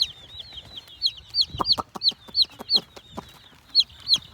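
Chickens on a farm cluck repeatedly in short, sharp bursts, with a string of close, fairly loud calls and rhythmic low thumps between them.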